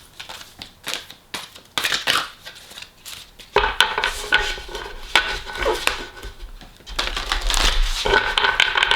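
Crisp shuffling of tarot cards, with quick papery riffles and taps coming in irregular bursts, close up and alone.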